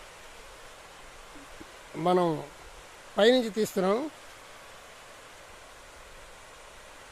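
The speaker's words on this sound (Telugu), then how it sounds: "తాడిగడ వాటర్ ఫాల్ అంటారు దీన్ని." Thadigada waterfall near Ananthagiri makes a faint, steady rushing wash throughout, and a voice speaks briefly over it twice.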